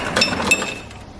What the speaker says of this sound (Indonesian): Sekarang kita coba yang es batu ya. Kita tekan tombol cube, kemudian kita tekan lagi tombol gelas ini.